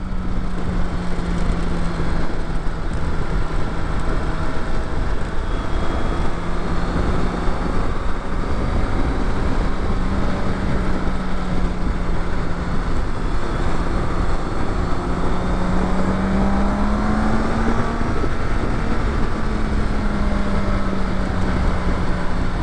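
A BMW motorcycle is ridden with strong engine braking at a demo day, its engine droning loudly and continuously with rising and falling pitch under heavy wind rush.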